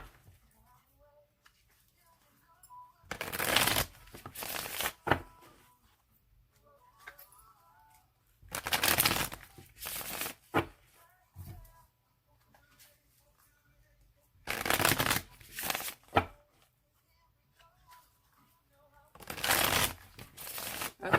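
A tarot card deck being shuffled by hand in four separate bursts of brisk riffling, close and crisp, with quiet pauses between them and soft talk in the gaps.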